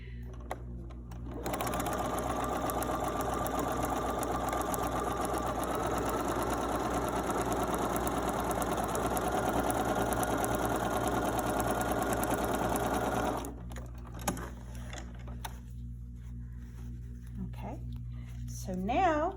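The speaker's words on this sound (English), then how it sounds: "Then I'm going to go back and I'm going to sew my 1/4 inch." A sewing machine stitching a quarter-inch seam on quilt blocks runs in a steady, fast whirring hum for about twelve seconds, then stops. A person speaks over it and afterward.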